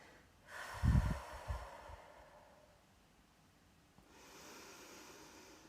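Person doing a 4-7-8 breathing exercise, with a sharp audible nasal inhale and a short snort up close, followed by quiet held breath and a faint, soft airy exhale.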